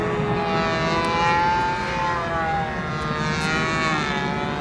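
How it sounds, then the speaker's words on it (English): A control-line model airplane whines steadily as it flies in circles on a tethering line, its small engine giving a continuous, loud buzzing drone with a slowly wavering pitch as it loops around. "This guy is flying his plane that's attached to a string."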